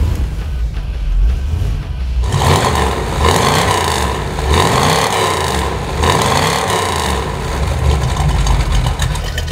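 A 1971 Plymouth Cuda V8 cranks briefly and fires up, then settles into a loud, lumpy idle with a steady rhythmic pulse and a few light revs, close to the microphone with no talking.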